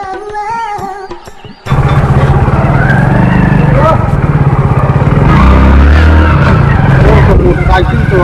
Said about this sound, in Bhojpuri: मोटरसाइकिल तो आ गई, चल गई